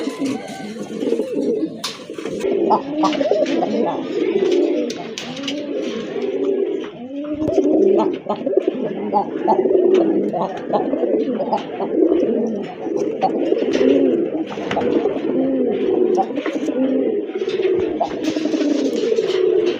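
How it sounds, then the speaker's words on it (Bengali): Rajgolla pigeons coo continuously at close range, overlapping soft throaty rolling calls that rise and fall in a steady rhythm. "আরেক জোড়া রাজগোল্লা কবুতর রেড কালারের ভিতরে টকটকে লাল"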